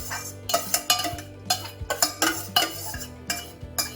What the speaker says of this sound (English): So I'm just going to mix all the ingredients